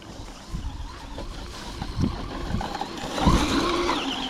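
Traxxas Rally BL-2S brushless RC car driving at full throttle outdoors, a whirring motor with bumps and scrapes and wind buffeting, rising toward the end.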